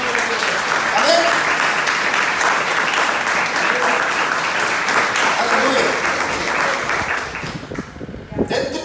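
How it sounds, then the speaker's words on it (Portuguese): Church congregation applauding during a service, sustained loud clapping from a large crowd with voices mixed in, fading toward the end. "Vamos aplaudir Jesus, aplaude em verdade."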